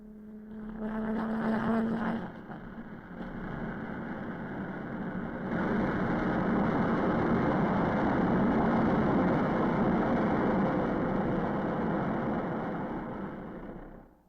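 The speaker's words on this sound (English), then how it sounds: "Engine run-up was a necessary prelude to flight test" A General Electric J79 jet engine on an F-104 runs up on the ground, building from a rough rumble into a loud, steady broadband roar that holds before easing off at the end.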